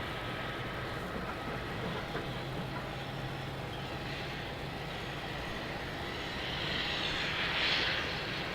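An airliner takes off at night from runway 27 at Melbourne Airport, its engines producing a steady distant roar that swells slightly toward the end.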